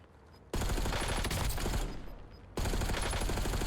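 An AMS-85 automatic weapon firing in Warzone, on Rebirth Island: two sustained, loud bursts of rapid fire separated by a short dip in level, starting abruptly after a quiet moment.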